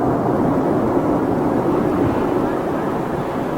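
An Oman Air Boeing 787 Dreamliner at London Heathrow, a loud, steady broadband jet roar that holds constant throughout the few seconds, with no voices over it.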